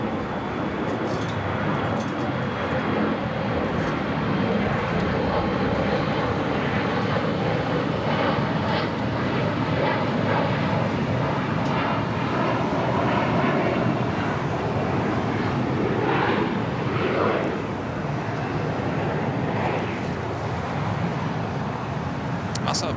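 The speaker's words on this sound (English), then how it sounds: "KLM Flight 602 lighting up, should have a south side takeoff coming up." A KLM airliner on a south side takeoff at LAX roars loud and continuous, a dense broadband engine thunder with wind buffeting on the microphone and radio chatter faintly beneath.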